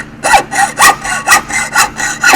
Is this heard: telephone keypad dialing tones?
no